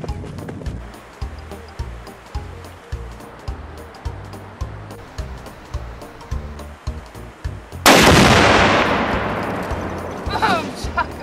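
Three pounds of Tannerite high explosive blows up a 52-inch TV in one loud, sudden blast that rolls off into a long, decaying rumble, preceded by a steady thumping beat and followed by faint crackling.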